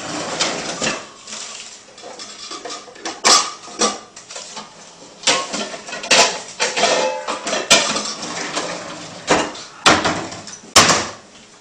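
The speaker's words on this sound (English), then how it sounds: "Now we're crushing the garlic." Garlic is crushed for Syrian stuffed squash in a run of close, sharp knocks and pounding thumps, some clattery. The strikes come irregularly over several seconds with brief gaps between them.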